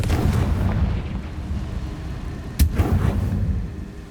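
Spell explosion from the Confringo fire curse in the Hogwarts Legacy video game on PS5: one sharp blast near the middle of a dense, rumbling game soundscape.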